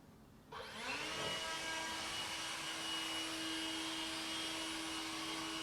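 An air blower with a short nozzle dries a car inside a garage, starting abruptly after a brief quiet moment and then holding a loud, steady, high whine with a constant tone for the rest of the clip.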